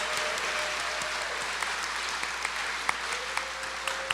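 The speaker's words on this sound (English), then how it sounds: "Let's give all the nominees and the recipients one more round of well-deserved applause." Audience applause at a university convocation for award nominees and recipients, a broad steady wash of clapping from a large crowd with a few sharper claps near the front, ringing on without speech.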